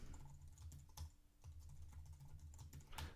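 Quiet keystrokes on a computer keyboard as a new password is typed, a steady run of soft clicks with a few louder taps, close by with no talking.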